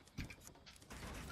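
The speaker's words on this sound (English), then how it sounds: "Just reloading." Gun reloading in the Fortnite video game: a short run of faint mechanical clicks and ratcheting rattles, quiet and close, with no talk.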